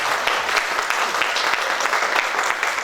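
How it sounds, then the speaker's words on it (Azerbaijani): Thunderous applause from an audience at a book presentation and signing event, many hands clapping densely and continuously at a loud, steady level with no voices over it. "Gurultulu alqışlarla təbrik edək"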